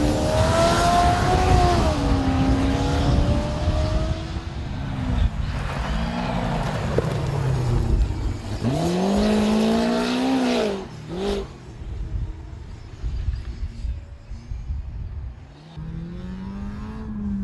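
A cross-country racing buggy at a British Cross Country Championship meeting revs hard and drives past, its engine note rising and falling through repeated gear changes and fading toward the end, loud and close with no talk.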